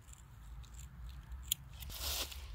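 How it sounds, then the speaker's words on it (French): Scissor tips snipping hair strands one lock at a time during a home haircut, a few faint crisp snips close by against a quiet background. "coupe avec le bout des ciseaux"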